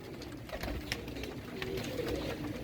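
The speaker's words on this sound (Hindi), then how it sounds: "सारे ये वाइट कलदुमा कबूतर हैं" A flock of white Kaldumay pigeons coos in low, soft murmurs under a steady background hum, with a few wing flutters and scuffles close by.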